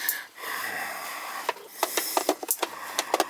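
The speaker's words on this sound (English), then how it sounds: "while the vacuum's running" A vacuum pump runs during an AC system repair after a leaking coil is replaced, a steady mechanical hum close by, punctuated by a series of sharp clicks and taps in the second half.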